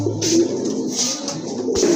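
Pigeons coo repeatedly in a low, throaty rhythm, several soft calls overlapping close by at a pigeon seller's loft, with no talking.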